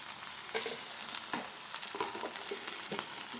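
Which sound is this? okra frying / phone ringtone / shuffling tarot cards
okra frying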